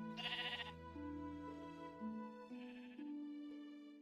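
A Minecraft sheep bleats in a wavering, nasal voice, two cries close together and clear with no talk over them.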